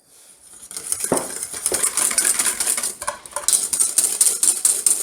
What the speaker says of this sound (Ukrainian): Наступним етапом збиваємо білки, поступово додаючи туди цукор.